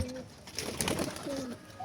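Pigeons coo softly in a few low, rounded calls near a rooftop loft, faint and intermittent over light background noise.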